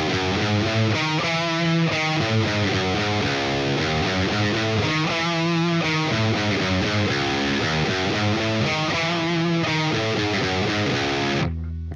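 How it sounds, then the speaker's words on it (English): Distorted electric guitar in drop D playing a pentatonic, bluesy wah scale riff, loud and continuous with sweeping wah tone over sustained chugging, alone without talk. "then there's a wah scale riff"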